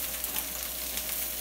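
Brussels sprouts sauté in bacon fat while a spoon stirs them, a continuous even sizzle with a faint low hum underneath and light stirring textures, close and without speech.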